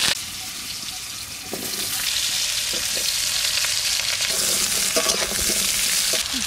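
Potatoes fry in a pan with turmeric, a steady loud sizzle with occasional stirring scrapes and clinks throughout, close up and with no talking.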